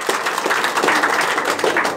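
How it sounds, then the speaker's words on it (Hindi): Audience applause at a DXN network morning gathering in Qatar: dense, steady clapping from a crowd that fills the whole short stretch, loud and close, with no pause. "ताली ऐसे बजा रहे हैं ऐसा लगता है हम खरीद के लेके आ रहे हैं"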